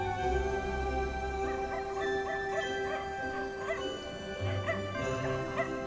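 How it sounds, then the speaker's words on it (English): Distant dogs bark and yip in scattered faint calls through a quiet, muffled snowy outdoor setting. "Can you hear distant barking?"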